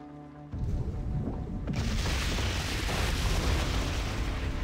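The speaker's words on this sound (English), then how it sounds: "we use our catapults, and we place some delicious explosions" Catapult explosions in World of Warcraft: after a brief quiet tone, a heavy booming blast hits and rolls into a sustained, loud, rumbling wash of explosive noise that keeps building.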